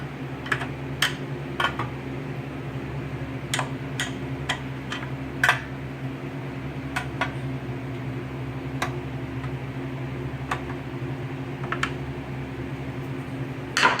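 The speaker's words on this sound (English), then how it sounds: "So I'm going to take out all 10 of these screws and take off this metal shield." Screws being removed and a metal shield taken off an NES console, with scattered sharp metallic ticks and clicks at irregular intervals over a steady low hum, close and without talk.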